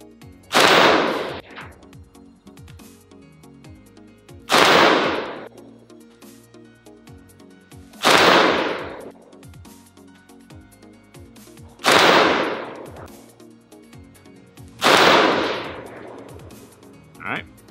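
Hungarian AK-47 from Lee Armory firing American Eagle brass-case ammunition by Federal, five loud, sharp single shots spaced roughly three to four seconds apart, each with a ringing outdoor tail.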